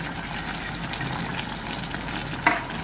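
Fried onions are tipped into a chicken dum biryani gravy in a pot, giving a continuous bubbling sizzle with a soft sloshing texture and one brief clink near the end, with no voices.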